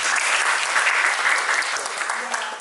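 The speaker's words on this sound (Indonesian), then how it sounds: "Tepuk tangan dong buat yang ini." A group claps together during a construction-themed mentoring session, a thick, even wash of applause that holds loud and steady for a few seconds before easing slightly.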